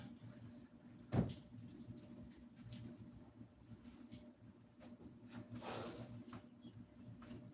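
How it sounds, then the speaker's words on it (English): An indoor door swings shut with a single sharp thud early on, followed by quiet room tone and soft shuffling at low level. "I'm going to close the door."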